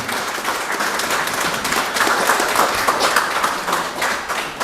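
A room full of attendees at an African expats empowerment forum claps steadily, a loud, even roar of applause that swells slightly midway and holds to the end.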